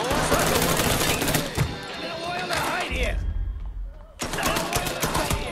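Rapid bursts of gunfire crackle through a Mafia III firefight, dense and loud, pausing for a moment of quieter rumble before the shooting resumes; a voice talks over part of it.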